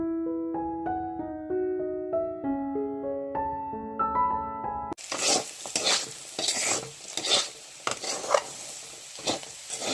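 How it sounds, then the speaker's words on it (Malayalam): Tamarind water poured into a curry in a hot pan sets off a loud, dense sizzle and bubbling that runs for about five seconds, coming right after a short instrumental melody. "ഈ പുളി ഇട്ട് വെച്ചിരുന്ന വെള്ളം പുളിയൂടെ ചേർത്ത് ഒഴിച്ചു കൊടുക്കാം"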